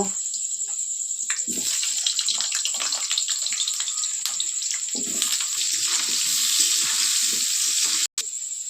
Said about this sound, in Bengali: কিছু আলু আগে ফ্রাই করে নিব।